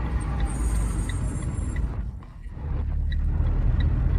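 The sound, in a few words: car brakes whistling when braking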